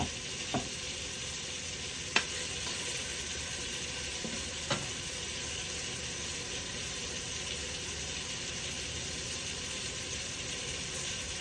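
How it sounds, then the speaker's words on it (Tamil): Chopped garlic cloves sizzle steadily in a hot pan while tomato rice is being cooked, a continuous soft frying hiss with a few faint clicks of a utensil against the pan. "இந்த பூண்டையும் இதில் போட்டுக்கொள்கிறேன்"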